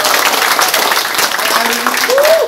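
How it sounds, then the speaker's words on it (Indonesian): Audience applause at the opening of a bonsai sun-drying event in Metro, Lampung, Indonesia, a dense burst of clapping from a nearby crowd, with a voice heard over it at the end. "Kita tepuk tangan, ya."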